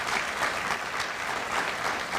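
Audience at a fire recruit class graduation ceremony applauds the fire service, a steady, dense burst of clapping from a crowd with no talking over it.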